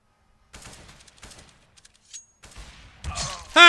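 Gunfire in Counter-Strike: Global Offensive during a coL vs Misfits StarSeries qualifier match, with sharp scattered shots and a louder burst building at the end, mostly heard alone before crowd-like noise rises.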